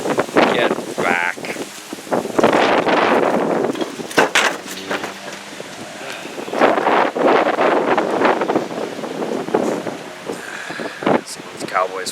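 Strong wind gusts buffet the microphone outdoors in a residential neighborhood, a loud, rushing roar with rustling that swells and eases in waves across the whole stretch, with brief bursts of voice among the gusts.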